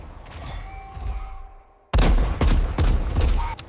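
Gunfire in a short-film firefight between humanoid robots in the snow: a quiet tonal stretch, then a sudden loud burst of rapid, overlapping shots and booms continuing for almost two seconds.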